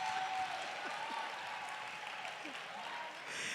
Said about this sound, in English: A round of applause again to our pitchers and for our judges as well.